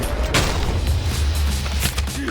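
Gunfire in Minecraft, a couple of sharp booming shots spaced over a couple of seconds above a steady dense game-noise bed.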